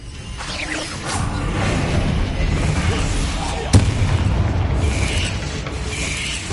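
A Bombarda spell blast in Hogwarts Legacy: a dense rumbling boom and whooshing game noise running throughout, with one sharp impact crack midway, loud and close.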